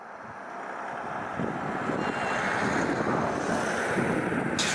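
Dense, steady roar of rushing water, like a waterfall heard nearby, with a broad hiss and wind buffeting the microphone, growing slightly louder.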